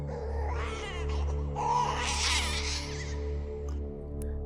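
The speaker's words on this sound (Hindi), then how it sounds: "तभी एक बच्चे की रोने की आवाज आने लगी।" An infant's thin wailing cry in a 2D animated Hindi horror story, rising and strained over a steady low droning background, heard alone without speech.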